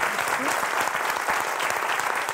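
Studio audience applause on the French game show Motus, a brief, even burst of many hands clapping at moderate level.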